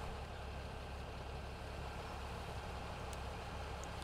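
A combine harvester idles in Farming Simulator 17 while its grain tank empties, giving a low, even engine drone that runs steadily at moderate volume, with no voices over it.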